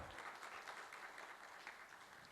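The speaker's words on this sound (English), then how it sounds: "can we have a huge round of applause for our founder director?" An audience at an opening ceremony applauds for the founder director, a faint, distant patter of clapping sustained across the moment without speech.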